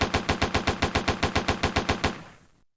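M1919 Browning machine gun firing in World of Guns, a rapid even burst of about fifteen sharp loud shots in steady rhythm, then a short fading echo and abrupt silence.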